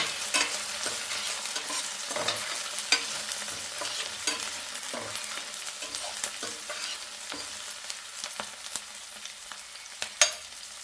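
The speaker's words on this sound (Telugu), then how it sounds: "ఉల్లిపాయలు ఇట్లా కొంచెం కలర్ వచ్చేదాకా వేయించుకోవాలి" Sliced onions sizzling in a pan for an okra fry, stirred repeatedly so that spoon scrapes and clicks punctuate a steady, moderate frying hiss.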